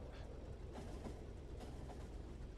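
A train rolls along its tracks in the factory-building game Factorio, a faint continuous low rumble with soft rhythmic clicking from the wheels, steady throughout.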